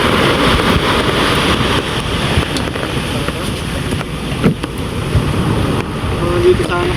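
Strong sea waves and wind roar around a fishing boat heading out in rough weather, a loud continuous wash with gusty buffeting on the microphone and a few brief knocks.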